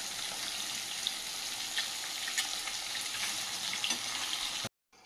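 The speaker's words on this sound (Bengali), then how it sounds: "মাছটা ভাজা হয়ে গেছে" Medium-sized katla fish pieces fry in hot oil, giving a steady, moderately quiet sizzle with scattered crackles and light stirring, no voices, ending in a sudden cut to silence.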